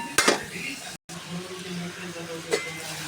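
Tomatoes and onions sautéing in oil with rock salt in a pan for a peanut kuzhambu, a soft steady sizzle with a few sharp clinks of a spoon against the pan, a brief silent gap in the middle.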